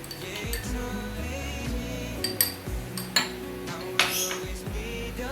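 A spoon stirs butter into water in a glass during a school chemistry lab, with repeated light clinks and taps against the glass over a quiet background, no talking.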